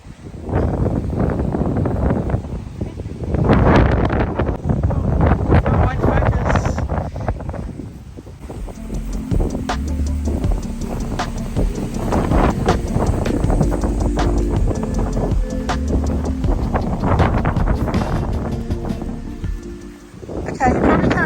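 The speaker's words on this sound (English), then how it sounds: "you probably can't hear me in the wind" Strong outdoor wind buffets and roars across the microphone in loud continuous gusts for the whole stretch, with a voice talking underneath.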